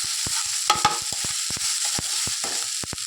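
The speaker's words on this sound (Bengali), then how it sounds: "জিরে গুঁড়ো, দিয়ে এটাকে ভালো করে নাড়াচাড়া করে নেবেন।" A fish head and spinach curry seasoned with cumin powder sizzles steadily in a pan while a utensil scrapes and taps the pan in quick, repeated knocks close by, with no talking.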